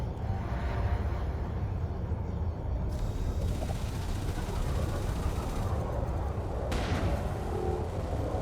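Shard cannons fire in a space combat video game, a dense, sustained barrage of booming gunfire over a constant low drone, with occasional sharper bursts standing out.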